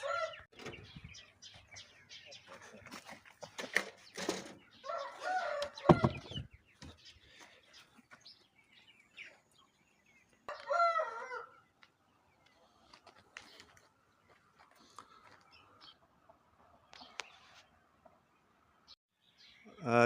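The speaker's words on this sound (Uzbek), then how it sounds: "Jo'jalarimiz 3 kunga qadar Taysonni ko'rsatib turamiz." Chickens cluck and chirp nearby in bursts, with a rooster among them, irregular calls spread across a quiet farmyard with pauses between, the loudest cluster early on and scattered softer clucks later.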